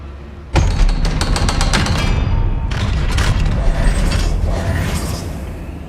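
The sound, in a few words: Revelio spell cast in the video game Hogwarts Legacy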